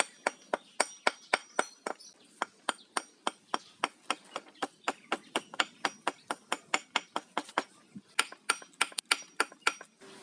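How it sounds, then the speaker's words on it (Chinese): Sharp hammer taps chipping away the lower part of a stone for a stone bonsai, dozens of close, bright knocks in a steady, slightly irregular rhythm, with no talk. "把下半部分敲掉一点"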